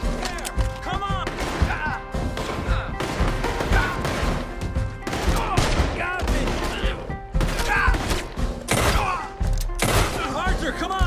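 Gunfire crackles in rapid, overlapping volleys of shots and thuds during an old-timey ferryboat heist in a video game, dense and loud throughout while voices shout over the fight.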